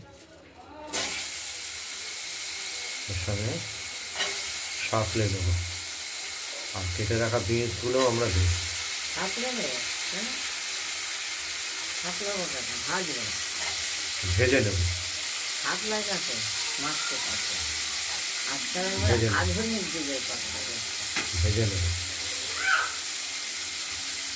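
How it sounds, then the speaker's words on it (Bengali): Cut potatoes frying in oil with a tempering of dry red chilli, bay leaf and cumin, a steady close hiss and sizzle with intermittent stirring clatter, while someone talks over it in bursts. "শুকনো লঙ্কা তেজপাতা জিরে এগুলো দিয়ে ফোড়ন দিয়ে আমরা কি করব ওই কেটে রাখা আলুগুলো"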